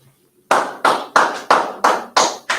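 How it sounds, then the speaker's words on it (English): A class claps in unison, seven sharp, evenly spaced claps ringing out loud and close after a brief silence. "Clap that up."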